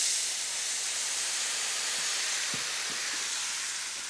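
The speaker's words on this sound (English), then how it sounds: "deglaze with a bit of wine" A pan deglazed with wine sizzles and steams in a loud, continuous bright hiss, with a few faint clinks partway through.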